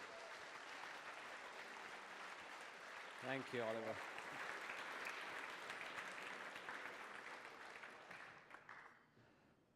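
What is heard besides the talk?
audience applause for the speaker Hadi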